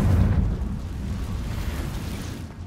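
A Confringo fire spell from the Hogwarts Legacy video game bursts with a loud, low explosive boom at the start, then rumbles and decays steadily through the rest of the clip with no talking.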